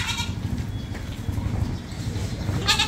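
Goats bleat at a goat farm pen holding young Hyderabadi and Sojat goats, several close, nasal cries overlapping amid low shuffling and ambient farm noise.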